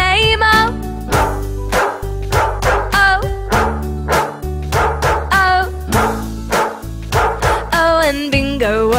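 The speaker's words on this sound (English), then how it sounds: "There was a farmer who had a dog, and Bingo was his name-o." A cartoon dog barks in rhythmic yips and bow-wows timed to a bouncy farm nursery rhyme, repeated bursts over a steady musical backing with sung melody.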